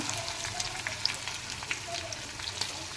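Capsicum fries in a pan with a steady, close, moderately soft sizzle and crackle, with no talk over it.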